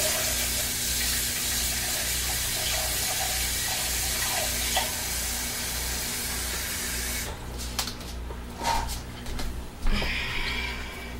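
Tap water runs in a steady loud hiss while a stick blender is rinsed for soap making, then the flow is broken up by splashing and clatter near the end.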